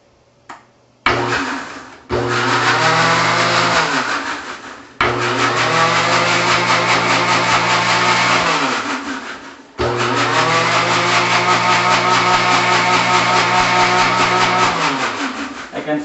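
An electric mixer blending ingredients for mysore pak whirs loudly and steadily in three long bursts, each starting abruptly and winding down with a falling pitch, with short pauses between runs.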